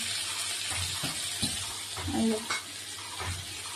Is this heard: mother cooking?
yes